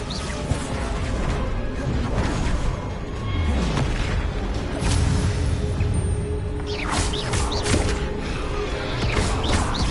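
A Bombarda spell erupts in Hogwarts Legacy gameplay, with heavy booms, crashes and thuds in dense, continuous battle noise and no talk.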